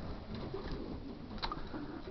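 Pigeons coo softly in a racing loft, a few low throaty calls close by over a steady background hum.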